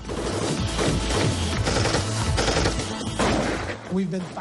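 Dense, rapid bursts of gunfire, loud and chaotic, with overlapping shots and a muffled voice-like sound near the end.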